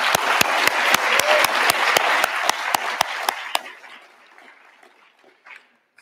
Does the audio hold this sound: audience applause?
yes